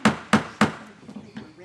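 A wooden gavel raps three times in an even, sharp rhythm at the opening of a historic preservation board workshop, followed by softer knocks and light room sounds.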